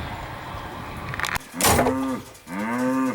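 Two loud, drawn-out cow moos close by, following a brief rustle, with faint outdoor ambience underneath.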